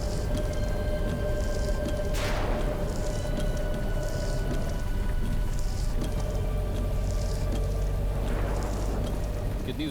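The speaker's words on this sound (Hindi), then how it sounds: "कितनी जोर की बारिश हो रही है।" Heavy rain pours steadily outside a dak bungalow where a car has broken down, a dense continuous hiss with a low rumble, loud and unbroken throughout.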